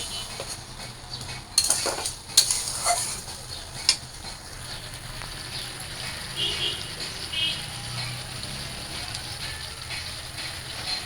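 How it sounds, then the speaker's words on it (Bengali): Spoon scraping and clinking against a pan as spices fry with potatoes in a home kitchen, a few sharp metallic knocks over a soft steady sizzle, with a voice talking at times. "তো আমি মশলাগুলো দিয়ে দিছি এখন ভালো করে কষায় আনি"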